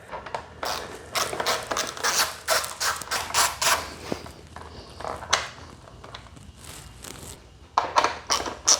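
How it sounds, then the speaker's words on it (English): A T30 driver turns out a headlight bolt on a KTM 1290 Super Duke R motorcycle, giving quick close ratcheting clicks in bursts, a pause partway through, then another burst of clicking. "All we've got to do is remove this bolt and one just like it on the other side."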